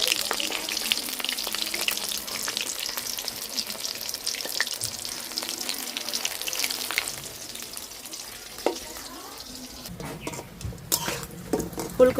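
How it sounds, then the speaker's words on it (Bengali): Cauliflower fritters coated in gram flour batter frying in oil, a continuous bright sizzle with scattered spatters and a few clinks of a utensil toward the end. "এই তেলে এখন ভাজা নেব ফুলকপির বড়া"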